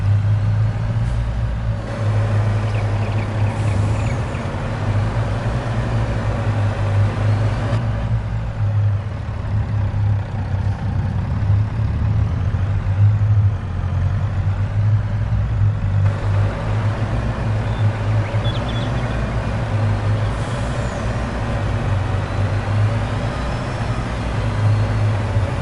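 A heavy vehicle in Farming Simulator 22 cruises steadily near a mine build site, its engine giving a constant loud low drone with slight shifts in tone and no voices.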